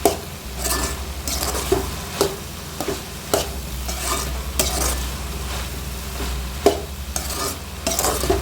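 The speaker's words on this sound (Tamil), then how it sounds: "நல்லா தேங்காய் போட்டு நல்லா ஓட்டி விட்டுங்க" Yam flower and grated coconut are stir-fried in a pan in a village kitchen, with repeated scraping stirs and spatula knocks over a continuous loud sizzle, and no one speaking.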